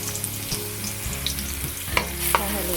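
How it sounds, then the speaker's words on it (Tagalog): Garlic frying in a hot pan of oil for tuna adobong paksiw, a continuous loud sizzle with occasional spatula taps and pops. "Pwede na natin ilagay yung ating bawang dyan."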